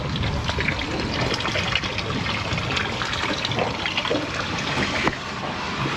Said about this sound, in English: We'll bilge it out. I'm gonna make sure it's bilging first.